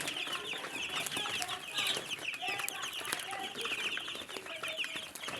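Broiler chicks cheep constantly in a dense flock, many high chirps overlapping at moderate distance with no voices.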